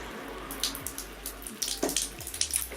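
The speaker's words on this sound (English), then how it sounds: "Squeeze out that water." Water squeezed by hand out of a soaked Bisous facial cleansing cloth, giving close, splashy trickles and drips in short uneven bursts over a faint background hiss, with no talking.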